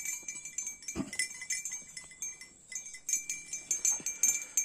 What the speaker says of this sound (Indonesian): kami sedang melakukan pengawasan terhadap sapi-sapi Bali kita yang sedang grazing